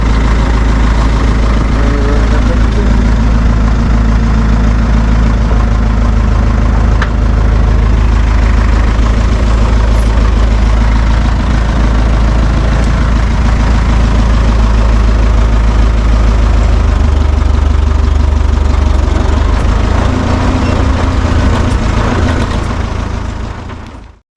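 A Renault tractor engine idles loud and steady after a restart, a deep continuous rumble with constant low throb that holds for the whole stretch before fading away.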